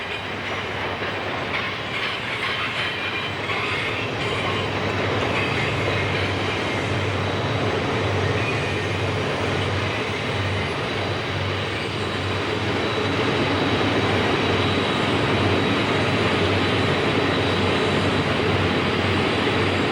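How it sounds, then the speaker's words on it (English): An eastbound loaded coal train of 102 cars and over 14,000 tons, hauled by seven GE AC4400 diesel locomotives, grinds up a steep mainline grade with a constant, heavy, droning engine roar and faint wheel clatter. "Another eastbound grinds up the grade with a loaded coal train"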